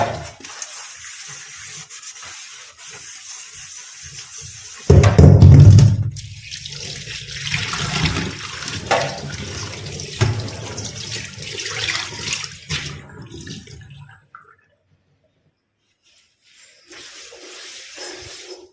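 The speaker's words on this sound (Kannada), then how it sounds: "ಆದರೂ ಸ್ವಲ್ಪ ಒಮ್ಮೆ ತೊಳೆಯುವ ಅಂತ ಎರಡು ಸಲ ಆಲ್ರೆಡಿ ತೊಳೆದಿದ್ದೇನೆ ನಾನು" Tap water runs steadily while a new iron kadai is washed, with scrubbing and splashing that grows louder partway through before the flow stops and near silence follows.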